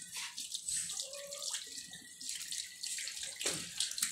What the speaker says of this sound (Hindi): शान भाई डालें इसके ऊपर पानी।